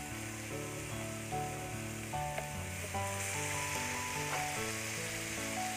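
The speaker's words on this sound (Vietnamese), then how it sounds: "Cái nấm này mình xào lên cũng rất là nhanh chín nè" Oyster mushroom stems stir-fry in a pan with a steady close sizzle, tossed back and forth with occasional clatters, and no talk over it.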